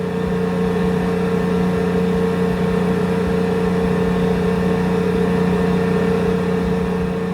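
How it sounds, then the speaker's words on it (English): Loud, constant low mechanical hum with steady tonal drone in the engine room of a 100,000-ton aircraft carrier, heavy machinery running without change throughout. "The noise level in the engine room is deafening, a constant hum that surrounds us"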